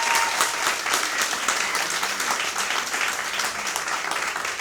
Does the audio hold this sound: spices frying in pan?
no